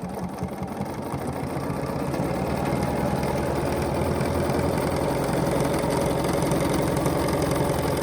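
A domestic sewing machine stitches a quilt block while a spiral ruler guides the foot, giving a steady, continuous mechanical whir that holds close and fairly loud throughout, with no talking.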